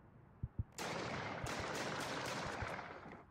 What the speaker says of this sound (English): Another shooting? The city is getting out of hand.